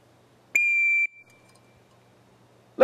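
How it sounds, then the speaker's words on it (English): One steady, piercing dog training whistle blast lasting about half a second, close and loud, then quiet with a brief sharp sound at the very end. "So my new cue, which is the sound of the whistle."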